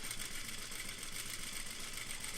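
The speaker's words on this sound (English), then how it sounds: "And I'm going to sew exactly the same way I did before." Sewing machine running steadily at a long stitch length, sewing rows of gathering stitches along fabric; a continuous, even whir close up with no pauses or voices.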